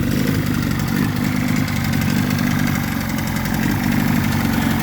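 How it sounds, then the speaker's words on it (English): A 1980s Mariner (Yamaha) 28 hp two-stroke outboard idles roughly while firing on only its bottom cylinder, a steady loud buzzing drone with a faint uneven throb, close up and without talk. "It's only running on the bottom cylinder."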